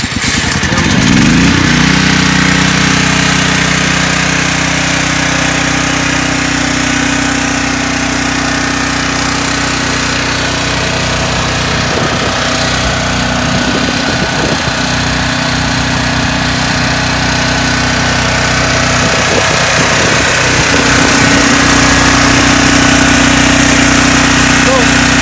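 A Briggs & Stratton gasoline generator in a food trailer runs with a loud, steady mechanical drone close by throughout, with speech over it.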